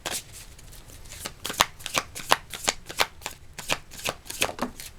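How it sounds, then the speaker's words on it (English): Tarot cards being shuffled in quick riffling bursts, a steady run of crisp flutters and slaps, close and clear with no talking. "I'm shuffling and multiple cards fly out"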